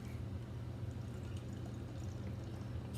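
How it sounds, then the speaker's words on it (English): Chocolate milk stout beer poured vigorously from a large can into a big mason jar, a steady continuous gurgling pour, close and unbroken with no talk. "Pour this a little vigorously, maybe get a nice head on it."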